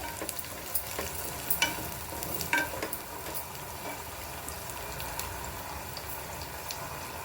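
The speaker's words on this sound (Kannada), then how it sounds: "ಹಸಿಮೆಣ್ಸಿನ್ಕಾಯಿ ಫ್ರೈ ಆಗಬೇಕು ಸ್ವಲ್ಪ" Green chillies fry in a pan for coconut milk rice, giving a soft, continuous sizzle with a few light clicks of stirring, fairly quiet and with no one speaking.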